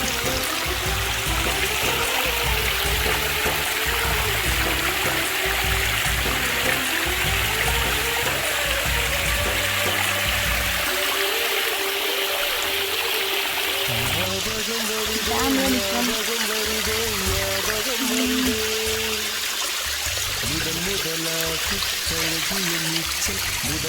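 Stream water flowing at a cold natural bathing spot in Sri Lanka, a steady, loud rushing wash that runs continuously throughout without a break, with no talk over it.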